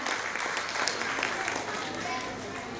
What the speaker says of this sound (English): So with huge round of applause and heartily welcome you, ma'am.